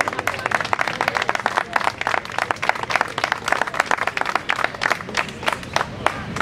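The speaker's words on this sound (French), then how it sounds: "Je vous demande encore une fois de les applaudir parce que c'est un travail de plusieurs mois." At the opening festivities of a community world festival in Charleroi, an audience applauds the organisers, many hands clapping in a brisk, irregular patter with a few cheers mixed in, close and lively throughout.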